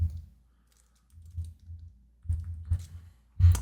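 Short bursts of computer keyboard typing, quiet soft key taps clustered in a few brief runs with pauses between, as a credit card number is entered.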